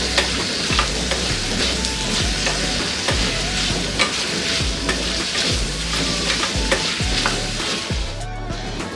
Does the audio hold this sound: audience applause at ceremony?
no